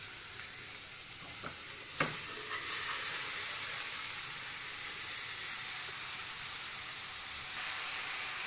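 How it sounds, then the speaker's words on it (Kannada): Beetroot frying in a pan is stirred, giving a soft, steady sizzle and hiss with a brief scrape of the spoon partway through. It stays quiet and close, with no voices. "ಬೀಟ್ರೂಟ್ ಹಾಕಿದ್ಮೇಲೆ ಎಲ್ಲರೂ ತಿರುಗಿಸ್ಕೊಳ್ಳೋಣ."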